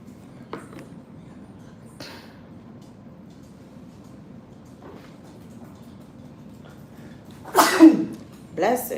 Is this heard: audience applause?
no